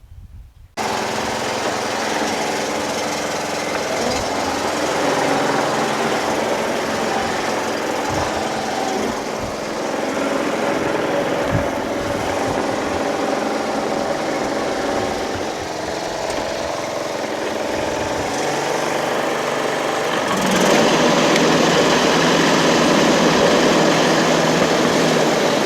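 Engine of a Yard Machines lawn tractor with no mower deck, running steadily and loud close by, a rough, continuous drone that grows slightly fuller near the end.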